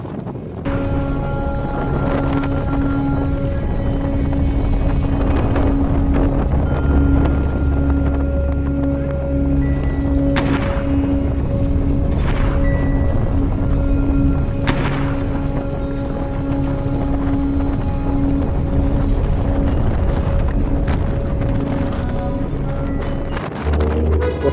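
A river boat carrying passengers toward Kamakhya near Guwahati, with a steady loud engine drone and hum, buffeting wind across the microphone and water rush, sustained throughout with occasional brief sharper noises.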